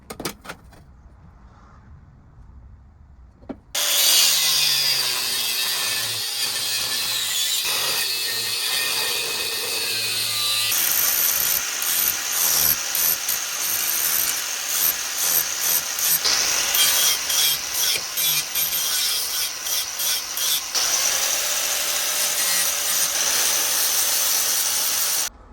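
Metal angle stock is cut for a lightbar install on a Toyota 4Runner. After a few quiet seconds, a loud, continuous, rasping cutting noise starts and runs steadily for about twenty seconds close to the listener.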